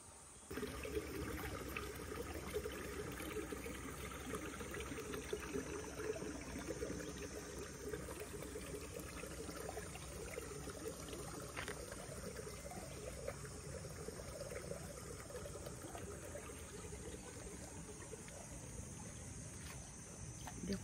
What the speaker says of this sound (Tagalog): Narinig niyo ano ng tubig.